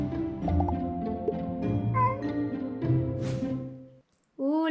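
A domestic cat meows indoors, a few short pitched calls near the microphone, with a brief gap before a final meow.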